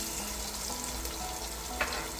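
Onions fry in a pan with a steady, even sizzle and faint crackle throughout, one small stirring scrape near the end, no speech over it.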